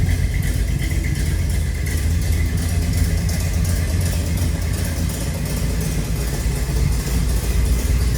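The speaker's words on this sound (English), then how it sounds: "We'll take it out for a little spin here quick." A 1940 Chevrolet Sedan Delivery with a small block 350 V8 and Turbo 350 transmission runs at a steady idle, its deep engine rumble loud and close throughout without any talking.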